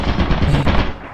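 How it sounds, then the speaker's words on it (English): Turret machine gun in the video game Lethal Company firing a dense, continuous burst of rapid shots, loud and close, with a rumbling low end throughout. "Turret at the end of the hall, be careful."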